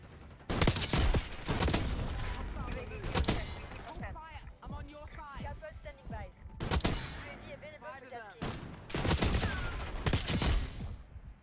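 Dragunov SVD sniper rifle shots in the video game Black Ops 6 crack out in sharp, loud bursts amid other gunfire and game sounds, with a player talking between the shots.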